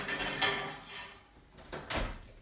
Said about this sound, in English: Okay, I'm putting it in the oven now.